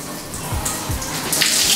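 Water running from a shower in a business-class airport lounge shower room in Doha, a close, steady splashing stream with no talk.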